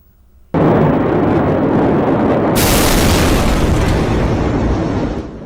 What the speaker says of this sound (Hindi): लेबनान की राजधानी बेरूत में मंगलवार को जोरदार धमाका हुआ